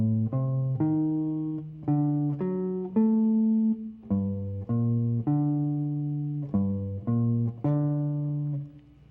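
Jazz guitar plays triads over a minor 2-5-1 progression, about a dozen plucked chords moving steadily with a sustained, ringing tone. Played alone, with no talk.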